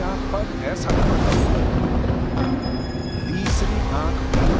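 Loud, continuous rumbling blasts of a missile attack, sharp bursts near the start and end, heavy low boom throughout, under a noisy newscast soundtrack.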